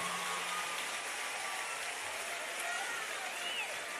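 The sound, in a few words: audience applause for public university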